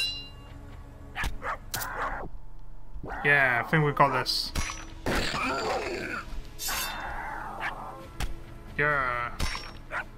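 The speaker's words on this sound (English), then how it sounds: "Oh, look at that massive dog." A large dog in the Pixel Piracy pixel-art pirate game barks and growls in several short bursts amid game effects, while someone talks over it.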